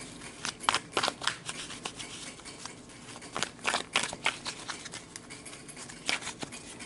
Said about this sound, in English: I want to pull another card really quick.